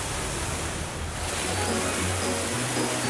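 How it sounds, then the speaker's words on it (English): Water in a children's dinosaur cartoon, a loud, steady rushing wash like surf or a gushing stream, continuous for a few seconds with a low hum underneath and no speech. "Yay, water!"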